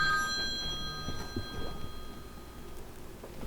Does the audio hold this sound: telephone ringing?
yes